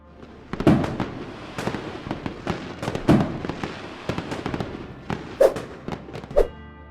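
New Year's fireworks over the Space Needle in Seattle, with irregular loud bangs and crackling bursts echoing at a distance, some crackle after the larger booms.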